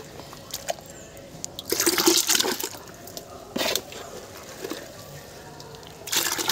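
Lime splashes and stirs into water while disinfecting a poultry farm, with irregular bursts of sloshing and pouring, the loudest around the middle and near the end, close by.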